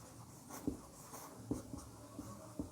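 Marker or pen writing the word "energy" on a board during a physics lesson, a series of short scratchy strokes with soft taps, fairly close and quiet, no talking.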